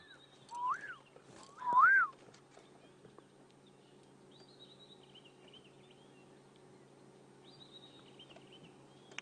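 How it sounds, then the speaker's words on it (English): A little canary calls outdoors near a river on a safari drive, giving two short rising whistled notes and then fainter high chirps at a distance over quiet ambient background. "we can hear another bird off to the right making lots of noise. That's a little canary."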